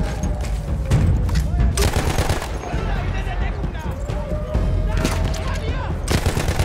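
Rapid bursts of gunfire from a Battlefield 1 World War I battle in fog, with several volleys and booming shots crackling loudly across the whole stretch, mixed with game effects and sounds.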